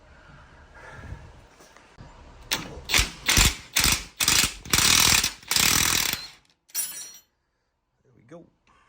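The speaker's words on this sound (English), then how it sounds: "but we'll try it with the large adjustable wrench" A large adjustable wrench ratchets and grinds against a pitman arm nut on a Jeep JK steering setup, coming as several loud, rhythmic bursts of clicking that stop, then a short final burst and quiet.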